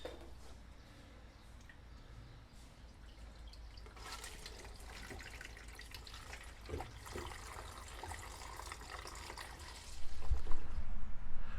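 Reused coolant poured through a small screen into a 1978 Jeep J10, a steady close trickle of liquid that swells into a fuller, louder gush near the end, with no talking.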